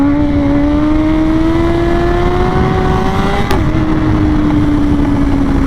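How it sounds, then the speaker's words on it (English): A BMW S1000 sport motorcycle at full throttle in first gear for a power wheelie, its loud engine note climbing steadily in pitch, a brief snap near the end, then holding high and close with no voices. "Let's go ahead and do a little power wheelie from first so you guys can see how easy it is"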